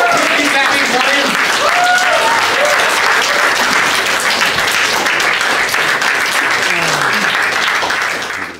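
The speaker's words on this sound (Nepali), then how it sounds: "please welcome with a big round of applause Rishabh Kavle on the stage keep clapping for him" A stand-up comedy crowd breaks into loud, sustained applause and cheering as comedian Rishav Kafle takes the stage, a dense wash of many clapping hands with some voices mixed in, easing off only at the very end.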